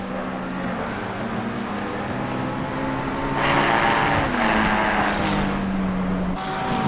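Race cars lapping the Barcelona circuit in a 24-hour event, engines droning and shifting pitch as cars pass, with a louder surge and swell midway and gear changes, steady and fairly near with no talking.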